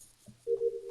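A telephone rings briefly, a short electronic tone heard during a voice-chat session of the game Among Us, close and clear, with no talk over it.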